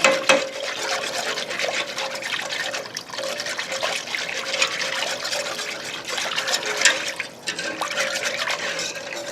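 Chicken stock being whisked into a roux for squash mac and cheese, a continuous wet sloshing and stirring with faint dribbling, close up and steady throughout with no talking.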